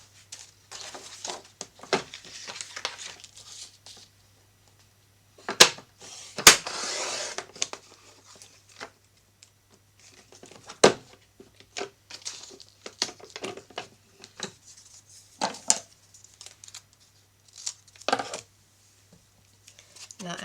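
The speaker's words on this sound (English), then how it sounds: "I'll cut a stripe of this that can just go right up here behind that embellishment" Blue patterned paper being cut into a stripe with scissors, a scattered series of quiet snips and crinkly paper handling with pauses between, close and soft.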